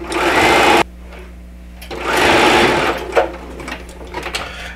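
Sewing machine running a straight seam down the middle of a quilt block, two loud steady bursts of whirring stitching separated by a short pause, followed by quieter handling clicks.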